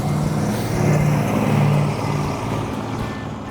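The engine of a 1972 family car runs with a steady low rumble, close and fairly loud, rising slightly in the middle before settling back.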